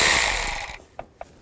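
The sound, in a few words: ratchet with 10mm socket removing a nut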